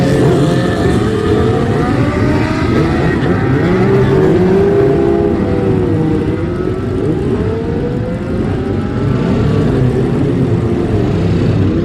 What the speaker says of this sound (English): Take the noise of these classic superbikes away.